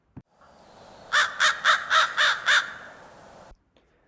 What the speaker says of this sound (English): number 2 was an American crow